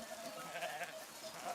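Sheep bleating during a sheep drive in the mountains of Provence, several overlapping calls in a steady, moderately loud flock chorus with no voices.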